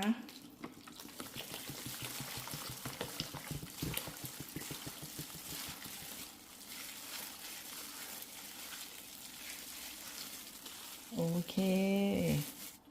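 Water poured into a chive dumpling dough mixture in a bowl, a soft continuous liquid trickle heard faintly up close, with some clinking and stirring noises toward the end.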